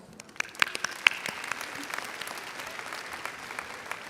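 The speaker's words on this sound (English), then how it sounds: "So let's give ourselves a round of applause." A 2024 Denton Ryan graduating class applauds at their commencement, with a burst of sharp, scattered claps that quickly settle into a fainter, sustained patter of clapping.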